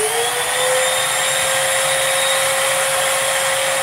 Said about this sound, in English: Vacuum where that grass is at.